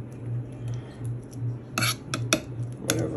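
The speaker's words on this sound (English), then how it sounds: "I'm just gonna go ahead and kind of re-spread it out in the pan or baking dish" A utensil clinks and scrapes against a baking dish as spinach chicken dip is spread out, soft taps at first, then a run of sharper metallic clinks and scrapes close by.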